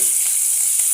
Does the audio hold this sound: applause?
no